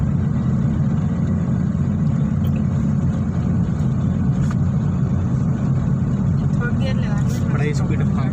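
A car engine drones steadily while the car drives on a multi-lane road during a driving lesson, a continuous low rumble with faint road noise.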